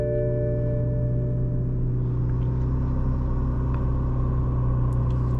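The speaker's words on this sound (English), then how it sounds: "let's start up this car and let's see how it looks" A Toyota Supra A91 engine runs with a steady, loud, low rumble and hum that holds throughout without any break.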